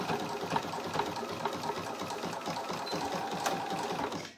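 A domestic sewing machine stitches an elastic pocket on a pouch, a steady rapid mechanical chatter running close up for several seconds before stopping.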